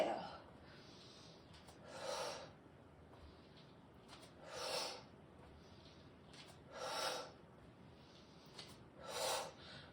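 Slow, deep breaths during a Pilates and yoga fusion workout at home, four soft, airy inhales and exhales at steady intervals, close and gentle with no words spoken.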